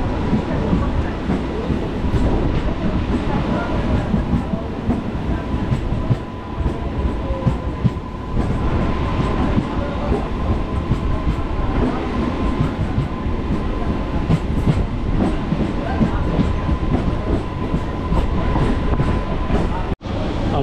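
Diesel special train for the Digha Rath Yatra runs on a single-track line, giving a steady, loud rumble of wheels and rail with a faint clatter, heard close and continuous throughout, with no talk over it.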